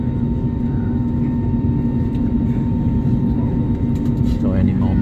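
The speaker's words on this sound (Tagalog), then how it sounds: "Engine warm up, no?" A Cebu Pacific airliner's engines warm up before takeoff, a steady loud droning hum with a constant tone heard from inside the cabin, with a person talking briefly near the end.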